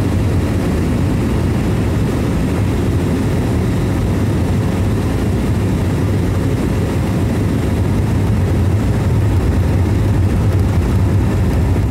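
A Cessna 208 Caravan single-engine turboprop approaching the runway to land, a steady loud propeller and engine drone with heavy low rumble filling the whole stretch, no voices.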